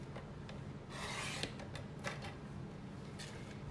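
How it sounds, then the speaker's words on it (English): Card stock trimmed on a paper trimmer, a soft close scraping slide with a few light clicks and taps, fairly quiet throughout. "So I'm gonna trim 1/4 of an inch off this side"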